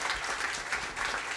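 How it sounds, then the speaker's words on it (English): An audience gives a round of applause at a beach committee gathering, a brief dense burst of many hands clapping together, steady and fairly close. "I want you to all help me give them a round of applause for this."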